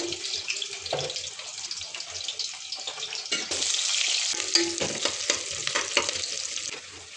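Chopped onions fry in oil inside a pressure cooker with a steady close sizzle. Stirring clatters and scrapes now and then, and a stronger hissing burst comes midway.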